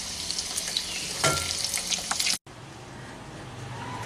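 Egg fingers sizzling in hot oil give a loud, steady frying hiss up close, then it cuts out abruptly midway and resumes at a softer, duller level for the rest.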